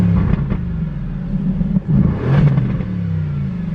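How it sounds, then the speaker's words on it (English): A 2020 Aston Martin Vantage AMR idles with a loud, close, deep rumble in sport exhaust mode, dipping briefly before a short rev swells and settles back into a steady burble. "Ooh, sport exhaust mode. Track."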